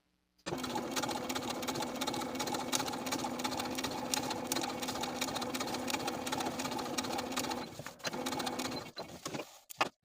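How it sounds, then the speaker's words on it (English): A sewing machine runs continuously for about eight seconds stitching long basting stitches on dress fabric, a fast steady mechanical whir up close, then stops with a few brief clicks. "sew basting stitches from outer notch to outer notch"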